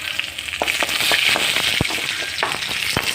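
Green chilli sautéing in sesame oil in a pan, with a steady close sizzle and frying hiss punctuated by scattered crackles and stirring taps, and no talk.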